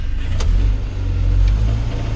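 An ex-RAF Land Rover Lightweight engine running close by, a loud, low, steady rumble with slight rises in revs.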